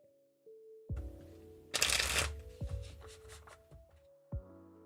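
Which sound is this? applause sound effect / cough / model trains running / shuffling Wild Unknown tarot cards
shuffling Wild Unknown tarot cards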